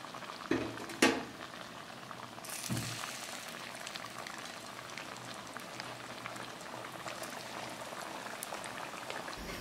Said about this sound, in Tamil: இப்போ நம்ம செய்து வச்சுருக்கிற ஸ்மைலியை எண்ணெயில் போட்டு பொரிச்செடுக்க போகிறோம்.